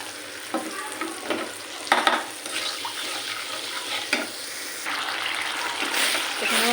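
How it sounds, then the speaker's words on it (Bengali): Masala spice paste frying in a pan for koi fish bhuna, a steady close sizzle with scraping stir strokes and occasional spattering pops that grows denser toward the end. "এখানে আমার মশলাটা ভালো করে কষানো হয়ে গেছে"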